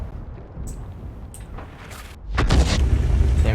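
A tank gun fires in World of Tanks: quiet engine rumble and faint clicks at first, then a loud, close boom hits partway through and a heavy low rumble continues after it.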